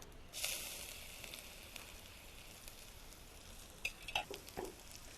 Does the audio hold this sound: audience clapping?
no